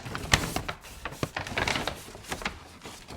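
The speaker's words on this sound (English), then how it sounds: "And then using a pair of scissors," Scissors cut along a bag that is held close, giving a few sharp snips amid crinkly plastic rustling with an uneven rhythm.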